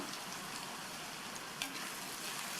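Brinjal (eggplant) sautéing in oil over a high flame for an oil-fried masala, giving a steady, dense sizzle throughout with one brief louder scrape partway through; no voices.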